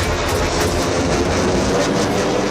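Rafale and Sukhoi fighter jets roar over the Ganga Expressway airstrip, a loud, continuous broadband rush and rumble that stays close and powerful throughout, with no voices.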